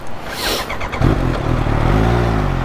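A heavy motorcycle ridden slowly, loud and close. After a brief whooshing rush, a deep engine drone comes in and holds steady, rising slightly in pitch as the bike moves off.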